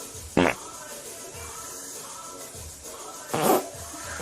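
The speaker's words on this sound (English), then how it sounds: "Did you just fart?" Two short, loud fart sounds about three seconds apart, close and abrupt, over a quiet background hum.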